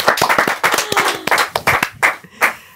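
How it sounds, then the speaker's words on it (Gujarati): A small group claps for actress Tejal during a podcast conversation with the Hellaro cast: sharp, uneven handclaps close by, a few loud bursts tapering into scattered final claps. "ચાલો એક વખત જોરદાર તાળીઓ તેજલ,"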